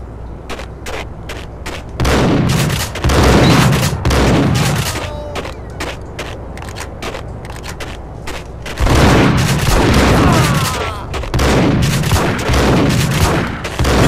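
Repeated shotgun blasts from the game Max Payne boom out in dense bursts, loud and close, with clusters of shots around the start, middle and end and brief gaps between volleys.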